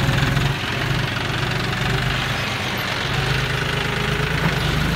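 A John Deere tractor engine revving high while ploughing overgrown grass and ridging a field for planting cassava, a loud, continuous rough drone with a knocking mechanical rumble, close up and without talk.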